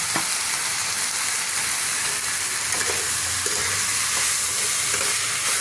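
Dhenki shak, fiddlehead fern greens, frying in a pan with a pinch of sugar: a steady, loud sizzle and hiss, with occasional stirring scrapes and no voices.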